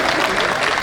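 Audience applauding a poet at a Hindi comedic poetry gathering, a brief, loud, dense burst of clapping from a crowd.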